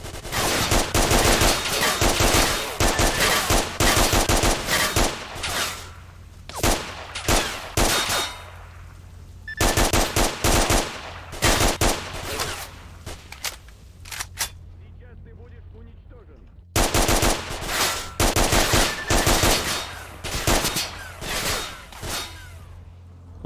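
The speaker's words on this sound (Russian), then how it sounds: "Ща я постреляю, стой." Loud machine gun fire in the STALKER shooter game, long rapid bursts separated by brief pauses and one near-silent gap, close and dominant.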